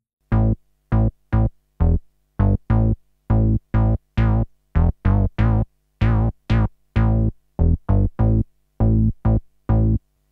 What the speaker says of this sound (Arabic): مع صوت البيس